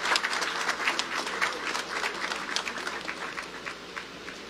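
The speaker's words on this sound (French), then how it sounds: "je demande à l'assistance d'applaudir l'ensemble du cabinet ministériel," An assembled audience applauds a ministerial cabinet, with dense, continuous clapping from a large crowd at an even level and a slight fade near the end.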